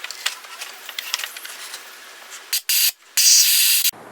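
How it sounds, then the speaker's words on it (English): Compressed air sprays in short hissing bursts to clean out an engine coil area, with light clicks and rattles before three loud, close blasts. "I'm going to spray some more air down there"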